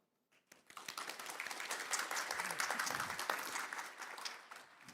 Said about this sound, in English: please welcome Professor Lee with a warm round of applause